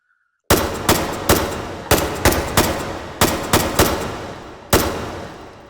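An SVT-40 semi-automatic rifle fires 7.62x54mmR rounds in the VR shooter H3VR: about a dozen loud, punchy single shots at uneven intervals, each with a short decaying echo.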